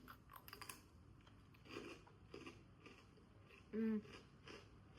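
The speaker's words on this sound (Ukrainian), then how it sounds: "ну хрумкає так нормально. Я аж сюди чую." Crisp crunching of Vietnamese brittle sweets being bitten and chewed, a few soft bites close by, quiet and intermittent with faint voices in the background.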